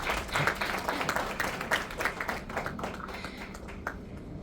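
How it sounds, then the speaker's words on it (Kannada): An audience at a film trailer launch claps in a dense, continuous burst of applause that stays loud and fairly close, slowly thinning toward the end. "ಚಪ್ಪಾಳೆ ಸದ್ದು ಕೇಳಿಸ್ತೀರಾ?"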